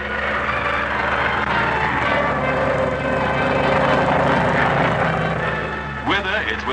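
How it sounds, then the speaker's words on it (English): An old-fashioned biplane about thirty years old, flying at around 75 miles per hour at an air display, drones steadily overhead for several seconds. The sound is loud and continuous, with other sound layered over it. "shows the crowd just how steady an old-fashioned biplane can fly"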